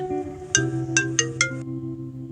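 A phone ringtone plays a short electronic melody of several bright tones, clear and close, then stops.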